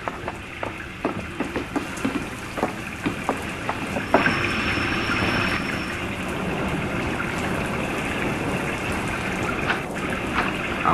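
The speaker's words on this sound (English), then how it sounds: "Sorry about the rain." Rain falling at night in a vintage-style radio drama: a steady close patter and splashing wash with scattered drips, plus a brief faint tone midway, with no voices over it.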